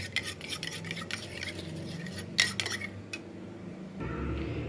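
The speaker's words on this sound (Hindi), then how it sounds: "एक अंडे में थोड़ा सा नमक डालना है और इसको मिक्स कर देना है।" An egg with a pinch of salt being whisked in a bowl, a quick scraping, clinking rhythm of utensil against dish, fairly close, followed by a steadier low rumble near the end.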